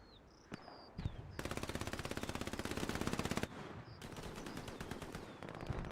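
MP40 submachine gun fire in Hell Let Loose, a World War II shooter: a long, loud, evenly rapid burst of automatic fire lasting about two seconds, then another sustained burst after a short pause, with scattered distant shots and whistling ambience around it.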